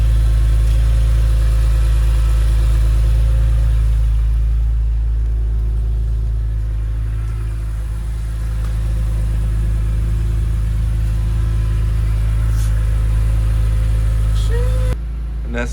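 A BMW E46 idles nearby with its exhaust leak fixed, a continuous deep, smooth rumble holding steady throughout before cutting off abruptly near the end.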